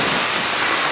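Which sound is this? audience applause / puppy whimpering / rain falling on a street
rain falling on a street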